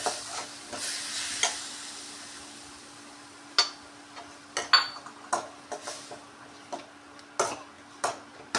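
Cauliflower pieces fry with tamarind juice in a pan for dry gobi, giving a low, soft sizzle broken by scattered, irregular clinks and scrapes of a spatula stirring close by, with no talk.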